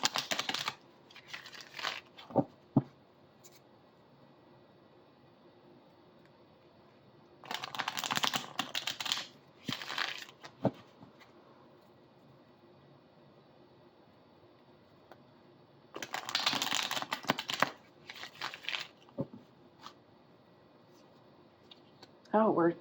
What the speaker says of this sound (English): I don't know if you guys saw all the shuffling that I just did.